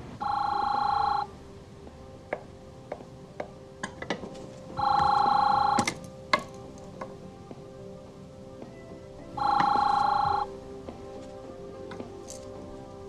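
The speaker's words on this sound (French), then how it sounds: "Téléphone." An old-style telephone bell rings three times, each loud ring lasting about a second and spaced several seconds apart, with small clicks and tapping in the quiet gaps.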